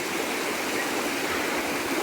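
Strong, steady rush of flowing stream water, loud and continuous throughout with no pauses.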